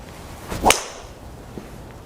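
A single sharp, whip-like crack of a golf driver striking a ball, loud and close, followed by a fading swish and quiet outdoor background.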